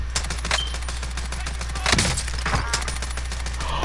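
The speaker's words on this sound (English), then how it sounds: "The recoil on the Odin with stopping power rounds is actually horrible." Odin rifle in Warzone firing stopping power rounds: bursts of loud, sharp automatic gunfire crack repeatedly over a steady low hum, with heavier shots clustered near the middle.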